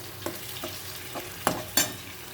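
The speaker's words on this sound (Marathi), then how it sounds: "आता ह्याला मस्त तेलामध्ये परत द्यायचे बघा" Fish dish cooking in hot oil, with soft sizzling underneath and five scraping stirs of a spatula in the pan, the last two sharper and louder, with no talking.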